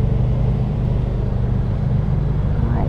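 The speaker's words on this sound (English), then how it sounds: "everybody's just making so much noise today. Sorry about the truck." A truck rumbles past a garden outdoors, a loud steady low engine drone lasting throughout with no voices.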